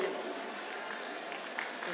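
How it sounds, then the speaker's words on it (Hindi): A crowd at a political rally in Kartar Nagar, Delhi, applauding steadily, a dense, even wash of clapping that stays moderately loud throughout. "तालियों से एक बार अभिनंदन कीजिएगा"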